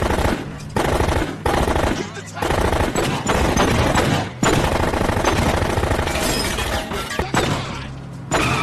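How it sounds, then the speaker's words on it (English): Relentless automatic gunfire rattles through a high-speed car chase in an action movie, loud dense bursts broken by short gaps, with voices faintly mixed in. "triggering a brutal high-speed chase with non-stop gunfire."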